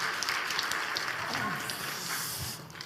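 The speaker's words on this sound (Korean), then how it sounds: "박수로 우리 격려해 주시겠습니다" A church congregation at a revival gathering's testimony session applauds to encourage an elderly visiting pastor, giving soft, steady clapping that sounds somewhat distant and stays even throughout.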